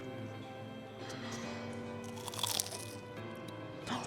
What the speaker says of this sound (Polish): Ja Wam teraz pokażę chrupkość moich mini sajgonek.